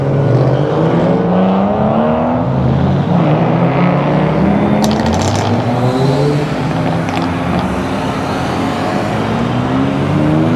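Race cars, among them prepped Lamborghinis and a McLaren Senna GTR, pulling away on a track day at Sonoma Raceway, with loud overlapping engine roars and rising revs rolling on throughout.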